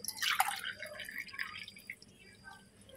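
Mutton stock pours and splashes into a measuring cup in a short burst, trailing off into a few faint drips.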